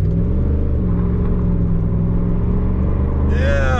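A 1993 Chevrolet Camaro Z28 barn find, just revived after ten years, revs hard with a loud sustained engine roar that climbs in pitch near the end.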